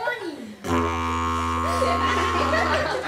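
A didgeridoo played with a straight, unsmiling embouchure gives a deep, steady buzzing drone that starts abruptly and holds for several seconds, close and loud, with light laughter and chatter beneath it.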